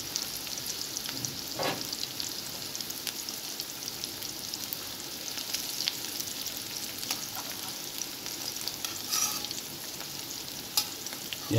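Onions sizzle in a pan with burnt onion bits left over from earlier frying, a steady crackling fry heard up close with occasional sharper spits.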